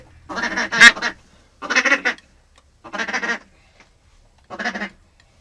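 Ducks quack in four loud, separate bursts of harsh calls during a December duck hunt, each lasting about half a second, with short quiet gaps between them.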